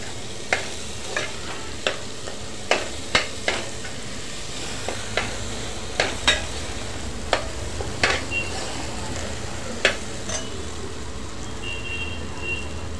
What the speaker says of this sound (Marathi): एक 5 मिनिटं आपण डेमसे परतून घेणार आहोत, म्हणजे ते तेलावर छान शिजतात